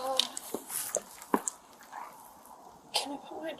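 A dog on a home porch during a police body-camera encounter gives faint, scattered yips and whimpering cries over a few seconds, heard at a distance among low background sounds.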